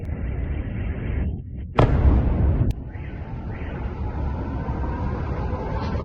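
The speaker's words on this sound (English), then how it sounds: "Guys, we're being bombed." Missile strikes in Russia: a sharp, heavy blast booms out mid-clip over a steady rumbling background, followed by a sustained roar and distant rolling noise.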